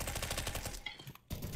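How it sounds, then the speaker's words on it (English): Rapid automatic gunfire in the CS:GO video game, shooting through a wall, rattles off as a fast even burst of close, sharp shots before cutting out, then briefly resumes. "Oh my God, they're trying to wall bang us."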